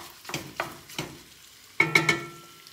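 Sausage browning in a pan for a copycat Zuppa Toscana soup, with a soft ongoing sizzle broken by a few sharp utensil stirs and scrapes against the pan.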